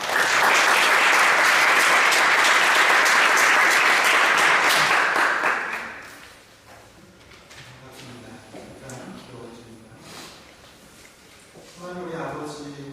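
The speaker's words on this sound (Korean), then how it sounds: "나오실 때 큰 박수를 마련하겠습니다" A church congregation gives a pastor loud, sustained applause for about five seconds before it fades, followed by someone speaking.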